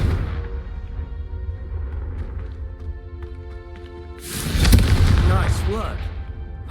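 A Confringo fire spell in Hogwarts Legacy bursts into a loud, crackling explosion that trails off over a second or two, following a stretch of quiet tonal game music.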